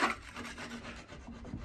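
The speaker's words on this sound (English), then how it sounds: "getting the edge of it in and scraping out those loose bits, breaking it up" A hand scraper working loose, flaking paint out of cracked wood in a brief, close, gritty rasp, dragged repeatedly along the surface with no one talking.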